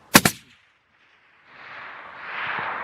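A 300WSM rifle fired at a red deer stag on a hunt: one loud, sharp shot with a quick echoing crack, then near silence, then rising wind or rustling noise outdoors.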